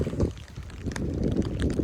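Gusty wind buffets the microphone with low rumbling roars, rising and falling over a faint watery background, on a riverbank while fishing on the Desna.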